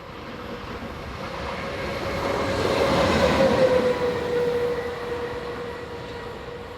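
Light engine locomotive 26059 passing on its way south in France, a steady rumble swelling to a peak and fading, with a sustained tonal whine from the engine.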